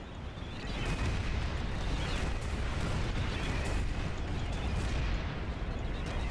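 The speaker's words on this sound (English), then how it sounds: "So you can hear by the sound of what was attacking me. Oh, it's ravens, and ravens are an anti-vehicle weapon that the new conglomerate has." Ravens anti-vehicle weapon fire in the PlanetSide 2 video game: a dense, continuous roar of booming explosive impacts and rumble, loud and unbroken throughout.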